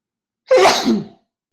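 One sharp, loud human sneeze, close up and alone, ending quickly in silence.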